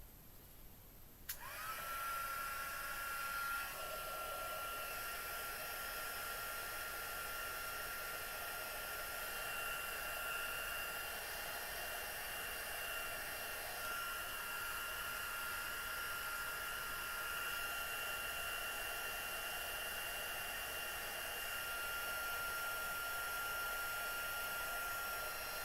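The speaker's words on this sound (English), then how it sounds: "Actually, I'm going to heat set it because I don't want to waste that much more time." A heat tool runs steadily to set ink on a handmade craft card: a constant high whirring hiss that starts abruptly and holds for the whole stretch, close and alone without talk.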